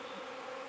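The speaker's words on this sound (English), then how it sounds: "there was a ton of bees in that tree" A dense, steady drone of feral honeybees swarming around a tree, a continuous buzzing hum with no pauses.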